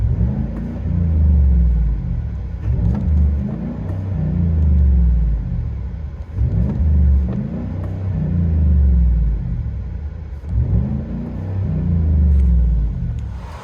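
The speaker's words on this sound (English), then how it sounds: "2019 FLOWMASTER Super 10 factory resonators." Heard from inside the cab, a 2019 GMC Sierra's 5.3L V8 with a Flowmaster Super 10 dual exhaust and factory resonators gives a deep, droning rumble that swells and eases in repeated acceleration cycles.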